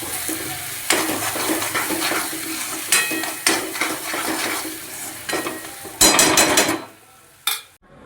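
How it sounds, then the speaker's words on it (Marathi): Modak dumplings frying in a pan for a Ganesh Chaturthi offering, with steady sizzling broken by stirring and clinks of utensils against the pan, then a few sharper bursts near the end. "आता मी मस्त मोदक तळून घेते"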